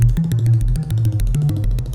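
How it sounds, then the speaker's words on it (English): Programmed electronic synth bass line in an aggressive industrial style, a dense, loud, continuous low-end pattern with stuttering rhythmic pulses and bright noisy hits on top, playing alone without voices. "Basically it's the same synth that I'm using for the first part of the track. It sounds like this."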